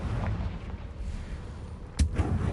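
A Confringo fire spell blasting in Hogwarts Legacy: one sharp, loud burst over a low, rumbling game background.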